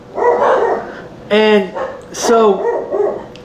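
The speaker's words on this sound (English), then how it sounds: "That's my dog's barking." A dog barks several times in short yips close by, loud over a man's ongoing speech.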